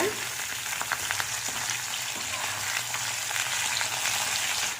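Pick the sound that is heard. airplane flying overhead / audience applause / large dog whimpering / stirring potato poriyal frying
stirring potato poriyal frying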